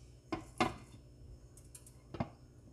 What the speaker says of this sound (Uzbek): Endi qozonimizni qopqog'ini yopamiz.